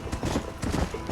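A horse galloping in the video game Red Dead Redemption, rapid rhythmic hoofbeats thudding close and steady with no speech over them.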